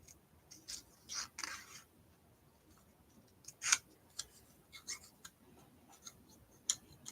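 Scissors cutting paper card pieces for pinwheel cards, giving a few quiet, irregular snips and clicks spread over a soft background, with no talking.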